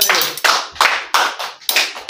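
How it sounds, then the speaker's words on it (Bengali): Hands clap in a loose rhythm, about five sharp bursts over two seconds, loud and close like a small audience group clapping together, with no voices. "একটু হাততালি দিন আপনারা"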